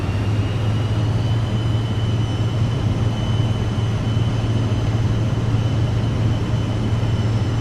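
An airliner taxis out to the runway in a flight simulator, its engines producing a steady, loud, even drone with a low hum that holds unchanged throughout, no voices.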